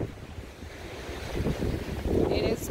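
Strong gusting wind at the Oregon coast near Yachats, Cape Perpetua, buffets the microphone over the low roar of surf, with a faint voice briefly in the background.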